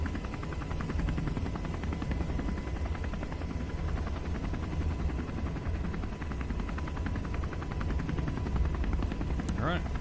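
Rocket lift-off in the video game Kerbal Space Program, a loud continuous engine roar with a rapid pulsing rumble that stays strong and steady throughout.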